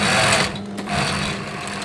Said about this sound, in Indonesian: ini mesin obrasnya ada pisaunya ya